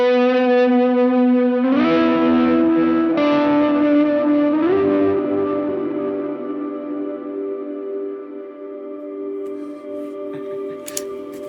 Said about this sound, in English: It's a massive reverb.